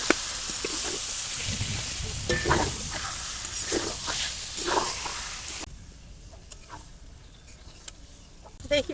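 Chicken meat sizzles and spatters in a hot pan, with occasional stirring scrapes; the frying quiets partway through.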